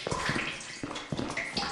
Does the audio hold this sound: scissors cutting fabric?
no